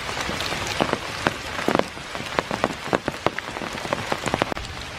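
Steady rain falls on a dark, foggy morning in Iroquois Park, a dense hiss of drops with scattered louder close taps and patters striking nearby surfaces and the lens, no voices.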